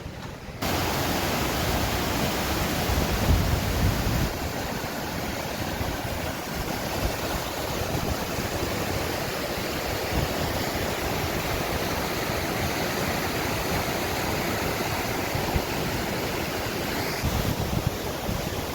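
Steady rushing water from a creek in Whittier, Alaska flows continuously for the whole stretch, a broad, even wash of noise with no voices.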